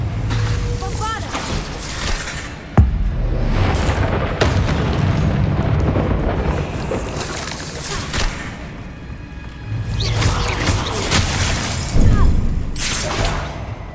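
A Bombarda explosion spell in the Hogwarts Legacy video game hits with one sharp, loud blast, then rumbling, crackling game effects roll on for several seconds, with a voice talking intermittently over them.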